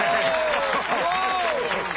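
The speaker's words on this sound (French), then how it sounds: "Applaudissons Jimmy McDougall!" An audience applauds a theatre troupe's performance, with dense, sustained clapping throughout and a voice carrying over the top.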